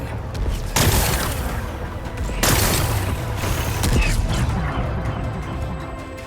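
Rocks blasted apart by a weapon in Horizon Forbidden West, two heavy booming impacts with crumbling debris over a steady rumbling game background.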